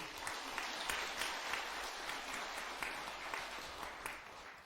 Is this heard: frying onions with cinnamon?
no